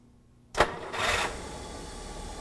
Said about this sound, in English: And now it's time to start the engine.